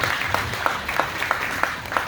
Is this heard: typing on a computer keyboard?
no